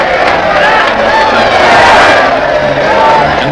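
Crowds roused to fever pitch at an anti-regime rally in Jordan, a dense, loud wall of massed shouting and cheering that swells and holds without a break.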